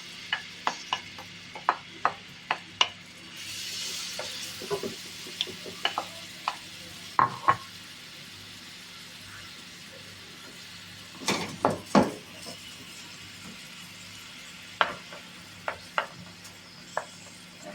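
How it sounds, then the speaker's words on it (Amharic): Chopped onion fries in hot oil, with a soft continuous sizzle and scattered clacks and scrapes of a utensil stirring the pan at irregular intervals. "ዘይቴ ከጋለ በኋላ ያዘጋጀሁትን ሽንኩርት ጨምረዋለሁ ማለት ነው።"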